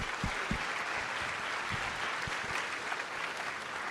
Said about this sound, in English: We'll give you a hand of one applause.